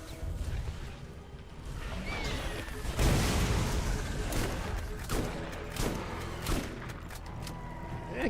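Grenade blasts and rapid gunfire in the Borderlands shooter game, a dense, continuous barrage with whooshes and sharp booms, loud and close throughout.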